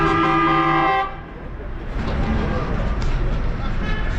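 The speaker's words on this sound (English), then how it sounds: "Yeah, the honking, that's like Jordan culture." Car horns honk in busy street traffic in Amman, Jordan: a long, loud blaring toot for about a second, then a dense roadway din with further horn blasts and passing vehicles.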